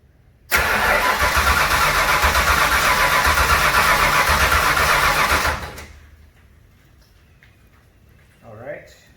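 A junkyard 351 Windsor V8 with a turbo setup in a 1967 Mustang cranks loudly and steadily for about five seconds without catching, then cuts off to quiet shop ambience with brief voices afterward.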